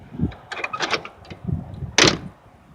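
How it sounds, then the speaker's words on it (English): The door of a 1959 Edsel Corsair is handled with some light rattling and scraping, then swings shut with a single solid, close thunk. No one speaks. "I love these doors though. I mean, it's shut perfect."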